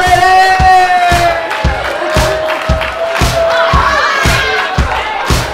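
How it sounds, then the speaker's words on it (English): A wedding reception crowd cheers and applauds, steady loud clapping with whoops and a rhythmic thumping beat underneath. "Give it up, one big round of applause for the Harmon Lady!"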